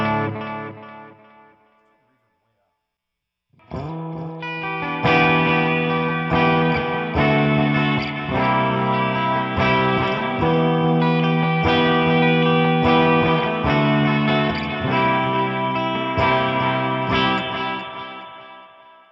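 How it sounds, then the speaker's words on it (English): Electric guitar played through a cheap amp with its single-knob built-in reverb switched on, a distorted, effects-laden tone ringing out loud and sustained after a brief opening phrase and short pause. "Let's turn some reverb on"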